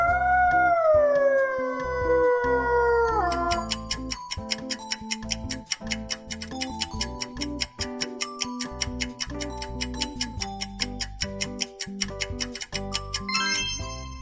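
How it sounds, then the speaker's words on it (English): A wolf lets out a long, mournful howl that slides downward over about three seconds, followed by a steady, even clock-like ticking that runs to the end. "Wolf."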